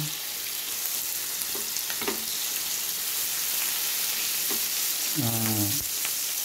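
Vegetables, string beans, frying with dried fish in a hot pan, a steady loud sizzle broken by a few clinks and scraping stirs, with no speech.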